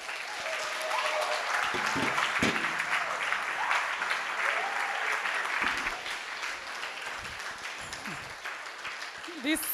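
Audience applause at a literary festival welcome ceremony, a moderately distant wash of clapping that swells early, then thins and fades, with scattered voices and a few sharper close claps over it.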